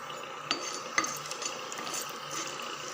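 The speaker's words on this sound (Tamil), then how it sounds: "நல்லா பொரியட்டும்." Mustard seeds, urad and chana dal, cumin and a dried red chilli frying in hot oil for a tempering, giving a steady, fairly close sizzle with scattered pops and a couple of sharp crackles, and no talking.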